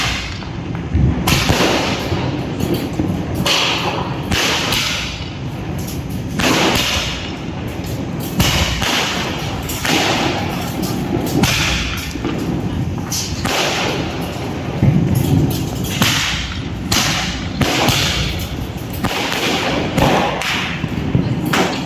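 A 25-shot Diwali firecracker string lit at home: loud, sharp bangs burst one after another, one every second or two, with a crackling tail behind each, and faint voices now and then between the blasts.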